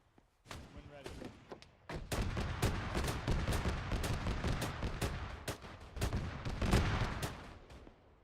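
Autocannon rounds fired in Arma 3 at a BTR armoured vehicle: a dense series of sharp, loud reports with heavy low booms rolling over one another for several seconds, fairly close, with voices talking over radio in the background.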